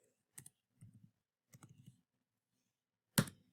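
A few quiet computer keyboard keystrokes while writing loop code, scattered soft clicks in small clusters, ending with one sharper key press.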